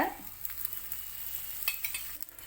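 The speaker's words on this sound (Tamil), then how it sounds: "இப்போ தவா நல்லா சூடாக இருக்குது இப்போ அதில் சேர்த்துக்கிறேன் கல் நல்லா சூடாக இருக்கணும்" Aloo paratha frying with oil on a hot tawa, a quiet steady sizzle with a few brief hissing bursts and faint scrapes.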